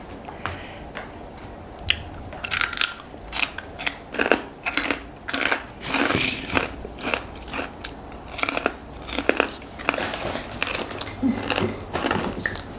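Large pork cracklings crunched close to the mouth during a spicy papaya salad meal, loud crisp bites and chewing crackles repeating in uneven bursts, with no talking over them.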